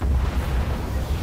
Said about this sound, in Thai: เสียงระเบิด